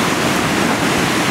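Sea wind and ocean waves roll in a steady, loud wash of surf with gusty wind across the microphone, continuous and close, with no voices.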